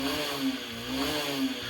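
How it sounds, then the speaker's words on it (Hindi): A Honda SP 125 BS6 motorcycle engine runs close by with a steady hum and short rhythmic rises as it is revved briefly. "आरपीएम भी पकड़ रही है, आप रेस की आवाज़ सुन सकते हैं।"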